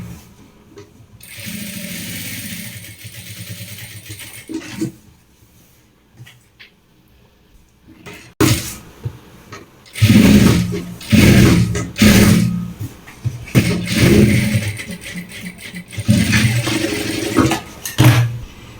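Sewing machine stitching a folded half-inch hem on a kitchen coat, running in several bursts of steady whirring and clatter with a quiet pause between, loud and close.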